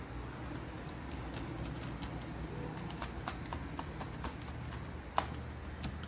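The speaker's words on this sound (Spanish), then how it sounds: "Escribo mi contraseña." A password typed on a computer keyboard, a steady run of quick light keystrokes with one sharper tap near the end over faint background hiss.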